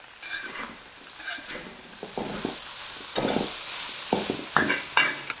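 Beef and broccoli stir-fried with ginger and garlic in a hot pan: bursts of sizzling and scraping as the food is tossed, coming in irregular surges over a steady frying hiss, close and fairly loud.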